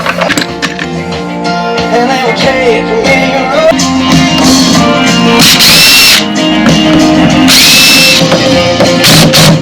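A power drill with square bits whines loudly in bursts among clattering and rattling noise, close by, during work on a 1994 Ford F-350 with a slide-in camper, with no speech.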